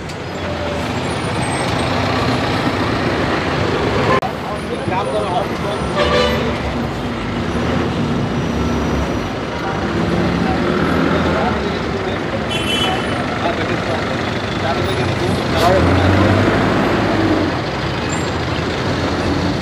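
Kadamba buses idle and rev at the Mapusa local bus stand, with a loud continuous engine roar, scattered horn toots and air-brake hisses, and voices in the background.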